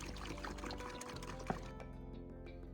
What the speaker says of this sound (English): Start by pouring your 5 liters of water into a clean bowl or bucket.